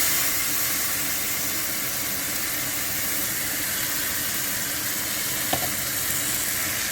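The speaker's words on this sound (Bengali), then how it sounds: "আমার পেঁয়াজটা ভাজা হয়ে গেছে, ওর মধ্যে আমি রসুন কাঁচা লঙ্কাটা দিয়ে দিলাম, আর এবার বরবটির যে পেস্টটা করেছিলাম ওটা দিয়ে দেবো।" Yardlong bean paste frying in a pan with onion, garlic and green chilli, giving a steady, close, continuous sizzle with a faint tap of a utensil near the end.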